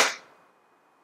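One sharp, short pop from an ASG CZ Shadow 2 airsoft pistol is heard up close, decaying quickly into silence.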